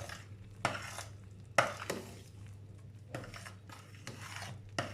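A big spoon stirs small cut squares of butter into a pastry mixture, giving a few sharp scraping knocks against the bowl spaced through a quiet background, close and with no talking.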